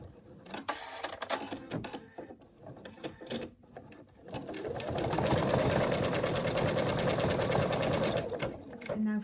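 An embroidery machine stitches out a design for a Monty the Monkey appliqué, its rapid mechanical needle chatter building into a steady loud whir after a few seconds of softer starts and stops.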